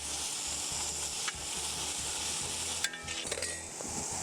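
Chopped onions sauté with a spoonful of salt in a pan for a homestyle chicken curry, a steady loud sizzle running throughout, broken by scraping stirs and a few brief clatters near the end.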